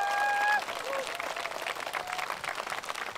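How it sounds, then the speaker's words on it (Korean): Audience clapping at a closing segment of an autumn Korean art song concert in Daegu, moderately faint and sustained, with a brief voice at the very start. "우리 그분들을 위해서 박수 한 번"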